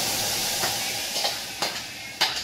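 Masala paste for paneer tikka frying in a hot pan, a steady sizzle broken by a few scraping stirs that grow sharper toward the end, close by with no talk over it.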